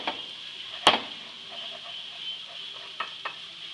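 Breakfast food simmers in a pan with a soft, steady sizzle, faint and close, broken by a sharp utensil clack near the start and a couple of lighter taps later.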